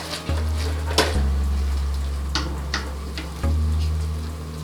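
Minute rice frying in a pan as garlic and bouillon are stirred in, with a soft steady sizzle under a low hum and a few sharp scraping ticks of the spoon, close and with no one talking.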